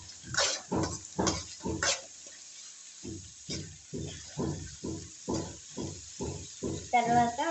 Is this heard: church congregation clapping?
no